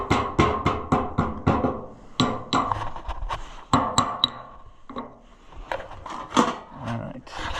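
Metal ratchet used as a hammer striking a part during an Allis Chalmers carburetor install, a series of sharp, loud knocks in quick bursts, some clinking, close up with no talk.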